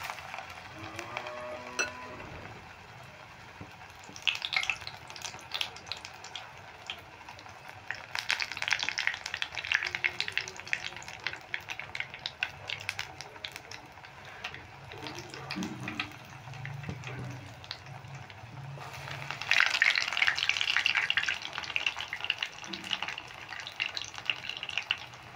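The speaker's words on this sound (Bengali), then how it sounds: "এবার আমি তেলে দিয়ে দিচ্ছি।" Drumstick flower fritters dropped into hot oil in a home kitchen, with a soft, steady sizzle and crackle that swells in bursts, plus occasional faint clinks and splashy movement nearby.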